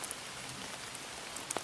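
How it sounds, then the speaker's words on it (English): Rain patters and drips from trees during a breezy wet morning in West Virginia woods on an archery hunting opening day, a quiet steady hiss with a few sharper drops and faint bird chirps late. "Sometimes you can't tell if it's the water dripping from the trees or if it's actually raining."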